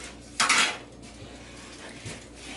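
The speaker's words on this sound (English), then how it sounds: "Using my vintage French fry cutter." Butter being cut with a vintage metal French fry cutter in a kitchen, giving one sharp metallic clack followed by faint scraping and light taps.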